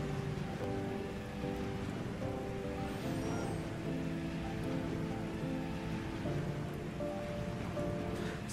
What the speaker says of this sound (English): So that is acid rain falling from the heavens.